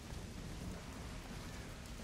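Heavy rain falls steadily in a fantasy video game world, a quiet, even hiss of downpour with no voices.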